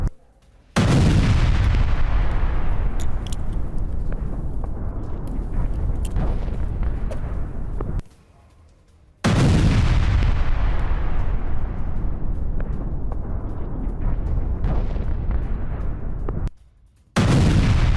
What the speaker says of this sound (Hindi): यूक्रेनी पोस्ट पर फैब 500 गाइडेड बम गिराए गए।